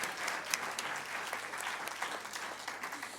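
A festival crowd at Chantons sous les pins applauds the sound and lighting crew on a Sunday afternoon, with sustained clapping and sharp individual claps standing out near the front.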